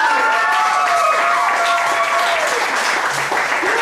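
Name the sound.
audience applause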